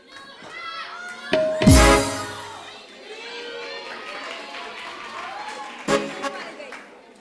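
Audience applause and cheering at a Pakistani TV game show, Dharti MalaMaal, with a loud burst early on, then a lively crowd of voices and clapping, and another sharp swell near the end while a host talks over it.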